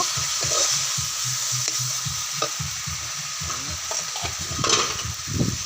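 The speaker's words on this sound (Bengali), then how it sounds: "দিয়ে মশলাটাকে আর একটু ভালো করে কষিয়ে নেব।" Tomato masala with cumin and coriander powder is sautéed and stirred in a pan, with a constant frying hiss broken by repeated close scraping and knocking spatula strokes, and no one speaking.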